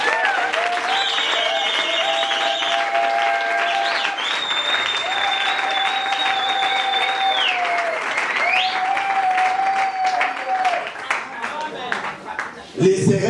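A church congregation applauds and cheers for Jesus, sustained clapping with shouts and sung ululating voices rising over it, fading unevenly near the end.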